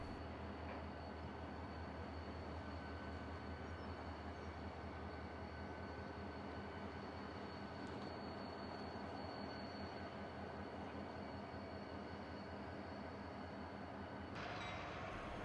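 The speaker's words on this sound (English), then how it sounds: "The crew brought the train forward with all 13 cars" Thirteen freight train cars roll slowly along a branch line track with a steady low rumble and a faint high whine, continuous throughout, ending in a brief clank.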